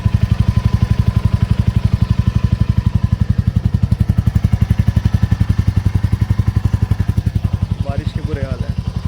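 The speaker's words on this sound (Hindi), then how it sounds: "मैं अभी बाइक को एक कोल्ड स्टार्ट दे के मैं अंदर गया हेलमेट वगैरह डालने के लिए" Royal Enfield Meteor 350 motorcycle engine idling after a cold start, a loud, close, even thumping beat that stays steady throughout, with brief faint voices near the end.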